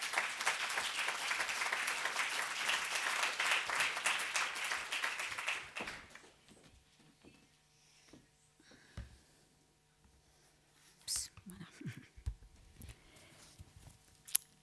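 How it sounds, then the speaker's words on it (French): Audience applause at a parliamentary colloquium on children exposed to domestic violence, a dense steady clapping for about six seconds that then stops abruptly, leaving a quiet room with a few faint shuffles and knocks. "On l'applaudit, s'il vous plaît."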